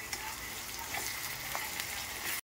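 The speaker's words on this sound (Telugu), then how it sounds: "ఆ గుజ్జును ఈ ఉల్లిపాయలో వేసి వేయించుకోవాలి" Steady sizzling of coconut paste frying with onions in hot oil in a pan, close by, with faint stirring scrapes.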